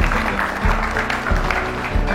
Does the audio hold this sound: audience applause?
yes